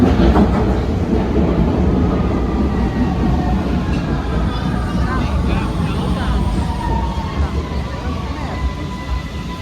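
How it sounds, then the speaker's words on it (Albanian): A Vienna metro train rumbles steadily along the tracks with rhythmic wheel clatter and faint squeals, while people talk quietly in the carriage. "Ne do marrim metro tani dhe do shkojmë tek Maria Hilfer."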